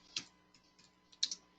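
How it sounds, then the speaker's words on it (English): Typing on a computer keyboard: a few sharp, sparse key clicks with short gaps between them, close and fairly quiet, and no one speaking. "I'll type that out."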